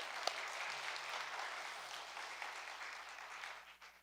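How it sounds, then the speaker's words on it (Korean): Congregation applause during a Korean church Sunday worship service, a steady broadband patter of many hands at moderate distance, held for about four seconds before tapering at the end. "박수 한번 할까요? 박수 한번 합니다."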